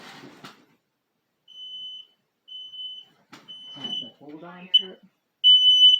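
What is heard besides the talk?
smoke detector alarm beeping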